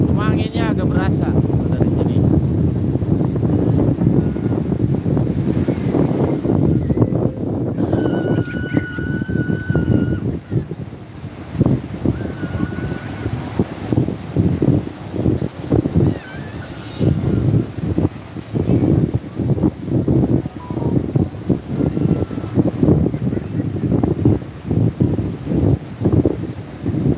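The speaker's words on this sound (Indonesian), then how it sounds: "Anginnya agak berasa." Wind blows at the seaside in Pangandaran, Indonesia, buffeting the microphone in strong irregular gusts, with someone talking at times over the roar.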